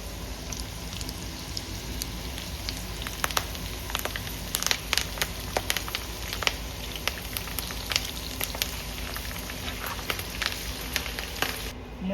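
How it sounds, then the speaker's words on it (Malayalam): Green chillies, curry leaves and papad pieces fry in the same oil used for frying beef, giving a steady, close crackle with dense popping and spitting bursts throughout and no talking. "ബീഫ് വറുത്ത് കോരിയ അതേ എണ്ണയിലേക്ക് തന്നെ പച്ചമുളകും കറിവേപ്പിലയും കുറച്ച് പപ്പടത്തിൻ്റെ കഷ്ണങ്ങളും ചേർത്ത്"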